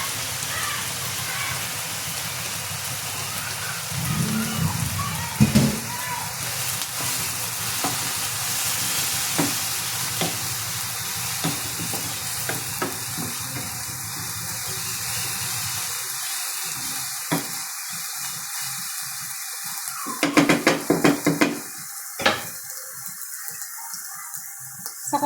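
Cooked pancit canton noodles tossed into a hot oiled pan and stir-fried, a steady sizzle with scraping stirs and a burst of louder clatter and crackle near the end.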